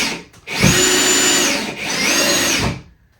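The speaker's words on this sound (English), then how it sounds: "For this one, we will go ahead and use the drill." A power drill whirs in two sustained bursts, close and loud, each spinning up and then winding down, while installing floating shelves, with no one speaking.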